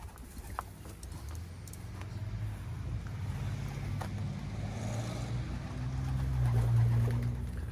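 Young pigeons coo and shuffle in a loft, low soft calls with occasional wing flutters and taps, quiet and close.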